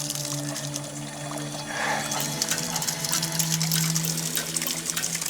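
Fresh spring water flows steadily out of the ground in a Grenada jungle, a continuous gushing and trickling wash with a low hum running beneath it.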